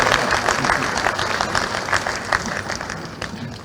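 Audience applause at an awards trophy launch event in Madhya Pradesh, steady dense clapping from a large hall crowd, loud and continuous throughout with no break.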